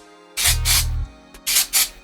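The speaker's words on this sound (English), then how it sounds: "Give it a little spray at the root." Dry shampoo aerosol sprayed at the roots of greasy hair, two short hissing bursts, a pause, then two more close and loud, with a can rattle between.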